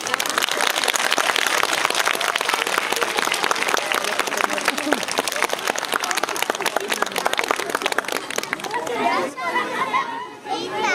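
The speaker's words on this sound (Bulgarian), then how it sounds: "Моля, аплодисменти!" Audience applause at a kindergarten pumpkin festival, dense steady clapping from a crowd with children's chatter mixed in, fading toward the end as voices and music-like tones take over.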